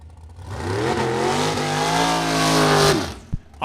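A '56 Chevy drag car launches hard into a wheel stand, its engine roaring loud and close with a rising, sustained rev for about three seconds before cutting off abruptly, followed by a brief thump.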